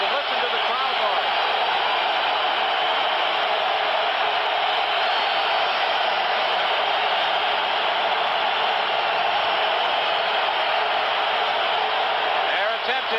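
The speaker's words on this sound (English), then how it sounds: "listen to the crowd noise" A huge stadium crowd roars continuously at the 1983 Grey Cup, Toronto Argonauts against BC Lions, trying to distract the offense before a 32-yard field goal; a dense, unbroken wall of noise, loud and steady, with a broadcaster talking over it.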